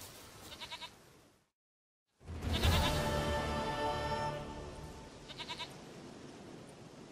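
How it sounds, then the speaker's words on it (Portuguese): Goat bleating in The Witcher 3 video game, a strong drawn-out bleat after a brief silence, with shorter bleats before and after it. "Minha cabra! Cabra querida e amada!"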